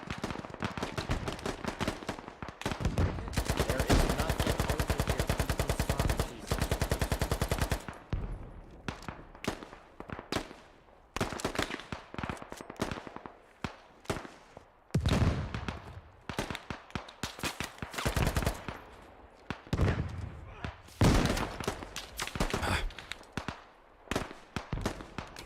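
Dense gunfire in the military shooter game Squad: rapid automatic bursts and scattered single shots, loud and near, continuing for the whole stretch with brief gaps.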